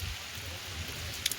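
Steady rain falling over a mountain village, a soft continuous hiss with low rumble underneath, moderately quiet throughout, with a couple of brief sharper drips near the end.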